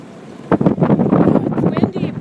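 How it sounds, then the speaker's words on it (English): Wind gusts across the microphone while out on the water among many sailboats, a loud, continuous rough rumble that starts abruptly and persists to the end, with no voices. "It's windy, brr."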